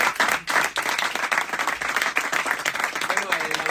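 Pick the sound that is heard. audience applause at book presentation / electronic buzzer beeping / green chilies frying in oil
audience applause at book presentation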